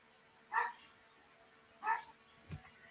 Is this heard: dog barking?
yes